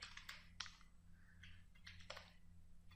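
Typing on a computer keyboard gives scattered quiet key clicks in short bursts over a low steady hum, with no voices.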